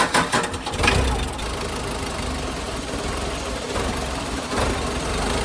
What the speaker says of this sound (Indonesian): Nyalakan mesin